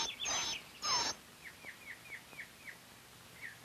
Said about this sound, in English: did they get the sound of like a baby bird squealing